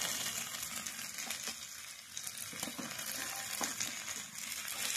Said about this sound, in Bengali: এবার আমি ভালো করে নেড়ে নেব সবজিটাকে। ভালো করে কষিয়ে নেব।